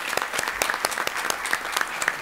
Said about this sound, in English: let's just give them a little round of applause